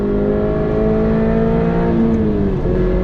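A race car engine drones loud and close as it accelerates on the wet Mosport track, its steady tone climbing smoothly with a brief dip near the end.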